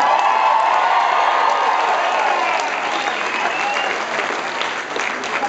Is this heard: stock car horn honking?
no